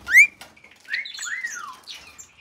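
Canaries in an indoor bird room give a few bright chirps and sweeping whistled calls, one sharp note at the start followed by softer, scattered tweets, close and fairly quiet with no talking.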